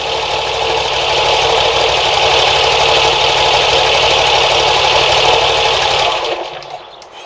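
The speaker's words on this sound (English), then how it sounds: "it seems to idle a lot better. I'm quite satisfied with the way it's idling." A Moto Guzzi V85 TT V-twin motorcycle fitted with a Mistral V-Twin Boost idles close by with a steady, even throbbing rumble, loud and continuous before the engine cuts off near the end.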